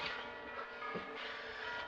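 Church bells toll for a wedding in a 1946 period comedy film, a broad ringing wash with lingering metallic overtones, steady and moderately distant, with no talk over it.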